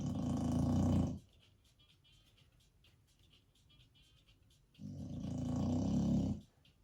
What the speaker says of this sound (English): You snoring? You're sleeping?